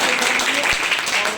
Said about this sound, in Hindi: एक बार मैं चाहता हूं कि बच्चे जरा सा अपने लिए ताली बजा दें।